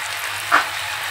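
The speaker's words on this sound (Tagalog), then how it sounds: "Ngayon mga kapatid, lagyan po natin ng sauce." Barbecue sauce brushed onto chicken on a grill, giving one short, moderately loud sizzle flare in the middle against a quiet steady background, with no talking.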